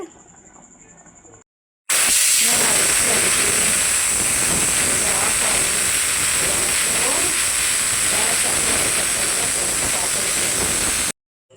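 After a brief quiet moment, a pressure cooker cooking gravy lets out a loud, sustained steamy hiss with a high whistling edge that runs on steadily before cutting off.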